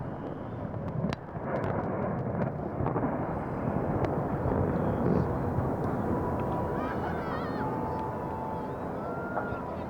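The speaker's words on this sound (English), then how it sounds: "The base of the outer stack drops about 40 feet as explosions tear out the bottom." Explosives tearing out the base of an 828-foot double smokestack at a smelter: a dense, continuous low rumble and roar with sharp blast cracks early on, sustained and loud throughout.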